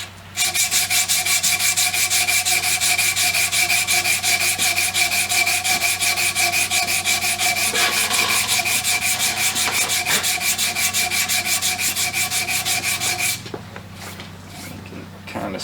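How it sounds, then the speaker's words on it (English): A flat of a Colt Lightning revolver is hand-sanded in straight directional strokes, giving a fast, steady rasping rub that runs close and loud before stopping abruptly near the end. "I'm just going to do the same thing we did earlier with the directional sanding."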